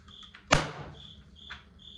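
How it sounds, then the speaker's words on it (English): A cricket chirps indoors in short high trills, a few repeated bursts spaced apart, with a sharp sudden bang or impact standing out loudly partway through. "I can't take it with this cricket right now."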